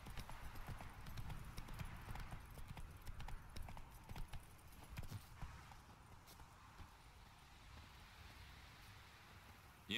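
A horse's hooves clip-clop in The Witcher 3 video game, a continuous run of steps at a walk or trot under faint ambient rustling, fairly quiet throughout.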